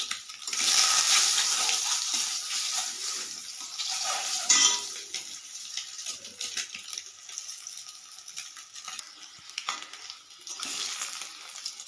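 Two eggs seasoned with a little salt and turmeric fry in hot oil in a pan, a steady bright sizzle with scattered clinks and scrapes of the utensil, close and moderately loud, with no voices.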